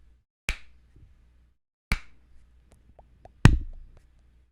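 Three sharp hand claps for audio sync, spaced a little over a second apart, crisp and close in a quiet room with faint small knocks between them.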